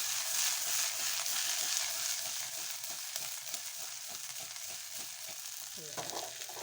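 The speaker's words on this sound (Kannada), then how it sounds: "ಇದನ್ನ ಹಾಕಿ ಮ್ಯಾಕ ತಳಕ ಮಾಡ್ಬೇಕು ನಾವು" Steady loud sizzling of a tempering in a hot pan for a cluster bean stir-fry, hissing continuously with a stirring scrape near the end.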